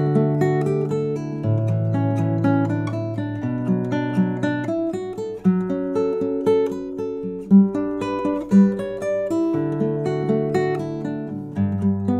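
Canon in D arranged as flowing piano chords with a melody line on top, moving freely away from the original harmony, played solo at a steady moderate loudness with sustained ringing notes and occasional accented chords.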